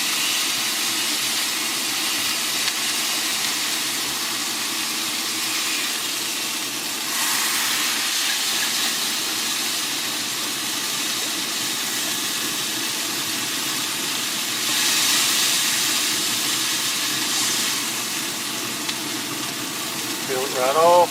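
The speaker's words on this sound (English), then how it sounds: "Got my trusty Smashburger smasher here. Give it a good smash." A smashburger patty pressed onto a hot griddle on a Grilla Grills Silverbac, giving a steady loud sizzle that swells a few times as the meat is smashed, with a voice speaking over it.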